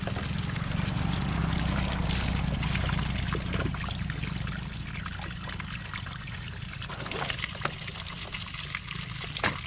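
Drinkable water pours steadily into a container until full, a continuous gurgling rush that thins into lighter trickling and splashes, close by, in the rural Philippines.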